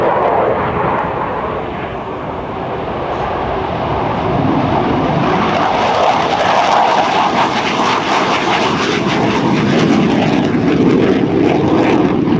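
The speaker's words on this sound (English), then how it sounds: "Watch now as these aircraft touch down" F-15 Eagle fighter jets of the 71st Fighter Squadron landing at an air show in Hampton Roads in 2008, a loud, continuous roaring engine rumble that swells slightly and holds steady throughout, with no other sounds over it.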